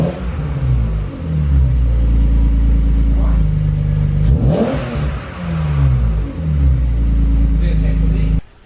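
A car engine revs repeatedly through a new exhaust, loud and close, with a deep throaty note rising and falling in several bursts before cutting off at the end.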